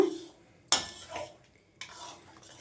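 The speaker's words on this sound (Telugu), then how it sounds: "ఉడికించి పెట్టుకున్న రవ్వను మొత్తం కూడా వేసేసుకొని ఒక్కసారి కలిపేసుకుందామండి" A spoon stirs cooked wheat semolina into hot ghee in a metal pan, giving a sharp scrape, then softer sliding stirs and a second scrape against the pan, with no talking.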